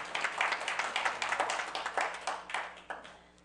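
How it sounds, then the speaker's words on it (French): A church congregation claps in steady rhythmic unison, dense and lively, with voices calling out underneath as the beat carries on. "Acclamons pour la parole, acclamons pour la parole."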